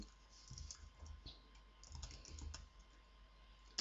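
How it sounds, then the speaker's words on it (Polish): Computer keyboard typing in a quiet room, a run of soft, irregular key clicks in short bursts, close to the microphone, with no talking. "W okienku wpisujemy"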